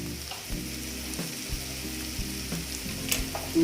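Kashmiri red chili powder fries in a pan, a continuous soft sizzle with a low steady hum beneath and a few faint clicks, heard close and with no voices.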